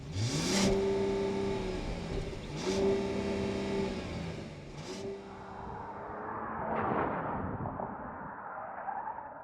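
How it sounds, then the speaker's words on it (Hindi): A Mercedes-Benz E450's engine, through twin trapezoidal exhausts, revs hard three times in quick succession, each burst rising and falling, then settles into a throaty rumbling idle with a short final blip. "एग्जॉस्ट सुनना चाहोगे?"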